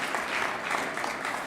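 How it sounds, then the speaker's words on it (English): Applause from a seated audience at a high school signing day ceremony honoring faculty and staff, a steady, dense wash of clapping held at an even level throughout. "let's give a round of applause to our faculty and staff that have helped them get where they are today"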